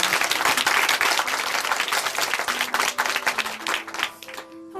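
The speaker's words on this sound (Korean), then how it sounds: "다시 한번 박수 보내드리겠습니다." A church congregation applauds loudly and steadily, the clapping thinning out and fading toward the end.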